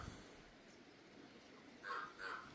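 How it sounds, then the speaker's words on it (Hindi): A crow caws twice in quick succession at moderate distance during a jungle hike, two short harsh calls over quiet outdoor ambience. "ये कौवा बोलने लगा यहाँ पे"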